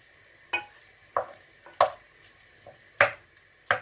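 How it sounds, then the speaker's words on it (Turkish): Meat kavurma being stirred in a pot: a handful of sharp, separate scraping clicks of a spoon against the pot over a quiet background with a faint sizzle, no talking. "Şöyle bir karıştırıyorum."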